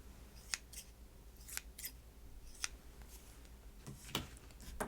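Scissors snipping paper for a handmade Valentine's Day card, a series of crisp, close, quiet cuts at an uneven pace in a hushed room.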